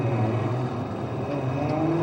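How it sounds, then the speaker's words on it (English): A 2JZ-powered Toyota A90 Supra drift car at Fuji International Speedway during qualifying, its engine a steady, loud, sustained roar with no breaks for the whole stretch, no voices over it. "2J powered, A90 Supra, swinging it around into this outer zone 1"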